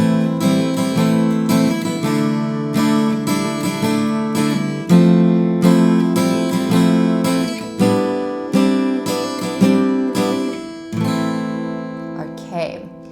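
An acoustic guitar strums a simplified open-chord version of the intro to a song, with rhythmic strums ringing out clearly and evenly for about thirteen seconds, played solo.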